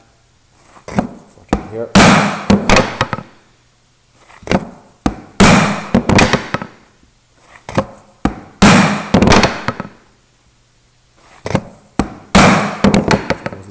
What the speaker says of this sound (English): firm tap, working back, chisel always vertical